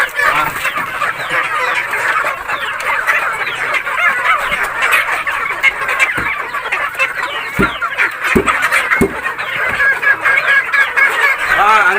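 Native chickens cluck in a dense, continuous flock chorus at feeding time in a backyard pen, with scattered sharp taps and pecks near the end and no talk.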